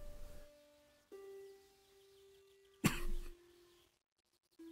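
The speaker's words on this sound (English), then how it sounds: "had a weird little cough there" One short, sharp cough bursts out close and loud in a quiet room, between stretches of low steady electronic hum.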